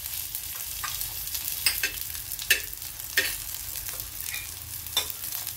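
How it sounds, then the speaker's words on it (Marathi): Cumin seeds frying in a little oil for stir-fried green chillies, a close bright crackling sizzle with sharp pops and the scrape of a stirring spoon every second or so, no voices. "आपल्याला जिरे परतून घ्यायचे, थोडंसं तेल टाकते जिऱ्यापुरतं"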